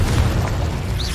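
A Confringo fire spell blasts in Hogwarts Legacy, a loud, close, booming explosion with a deep rumble that fills the whole brief moment.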